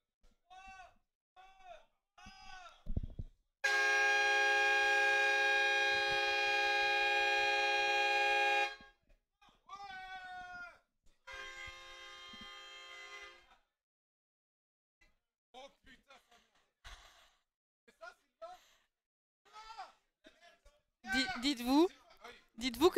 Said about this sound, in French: Il a un klaxon de TGV.